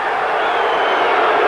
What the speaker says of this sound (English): I don't know why the crowd are jeering on that.